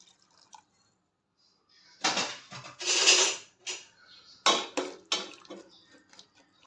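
Water poured into a cooking pot of green chillies for pacha theeyal, a few close splashing bursts with clinking of metal between quiet gaps.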